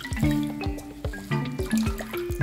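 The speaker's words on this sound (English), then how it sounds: "All right, now let's wring this out." Water is wrung out of a damp linen ruff with lace trim: repeated splashes and drips fall in uneven bursts, close and fairly loud.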